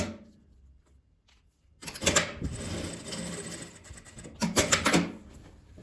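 A sewing machine stitches the middle seam of a multi-pocket fabric toiletry bag in two close bursts, with a brief pause between them. Quieter handling noise comes before the stitching.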